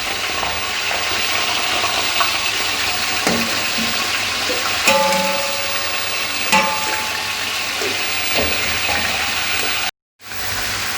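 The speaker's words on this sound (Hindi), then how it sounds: "जब ऑयल गर्म हो जाए तो अब हम इसमें चिकन डालेंगे और इसको फ्राई करेंगे।" Chicken pieces frying in hot oil in a cooking pot, a continuous loud sizzle with crackling and occasional stirring scrapes, then a brief dropout before the frying resumes.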